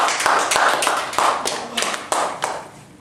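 A small group in a room claps in a brief round of applause, the individual hand claps distinct and uneven, close by and moderately loud, trailing off toward the end.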